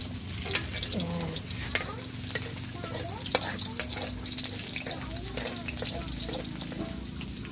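Garlic sizzles in hot cooking oil in a pan while a utensil stirs and scrapes at intervals, a steady close frying hiss with occasional sharp clinks.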